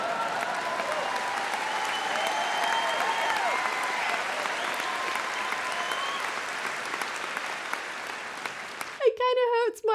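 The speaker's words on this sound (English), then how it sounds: "Which then receives a huge amount of clapping and whooping" A large audience claps hard and whoops in a dense, steady wave of applause that fills the space and keeps going, with a few cheering voices rising over it, before it cuts abruptly near the end.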